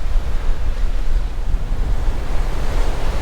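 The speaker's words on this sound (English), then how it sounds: "The waves are rolling in, but they are too small for surfing in this area." Ocean surf on the shore at Pōkaʻī Bay, Waiʻanae, rolling in as small waves, a steady broadband wash with wind buffeting the microphone, no talk.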